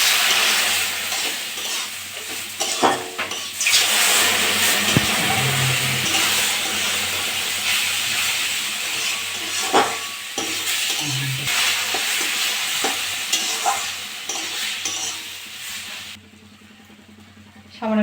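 Potato and semolina frying in a pan as water is poured in, giving a steady, fairly loud broadband sizzle with intermittent scraping of stirring over roughly eighteen seconds, fading near the end.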